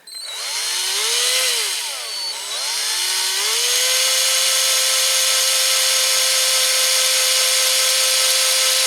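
A small power drill bores out parts on a Corgi Massey Ferguson 65 tractor model, its motor whining up close, dipping and rising in pitch before holding a steady high whine.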